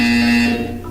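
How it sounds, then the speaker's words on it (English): A loud, steady electronic buzzer from the video game Portal 2 drones for about half a second, then fades under a fainter tone. "You will hear a buzzer."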